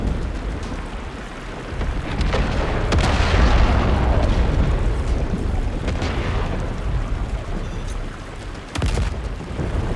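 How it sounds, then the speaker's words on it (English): Mines detonating in the space sim game Star Citizen, heavy booming blasts with a sharp crack near three seconds and another near nine, over a continuous low rumbling roar like thunder, no talk. "I keep tripping mines."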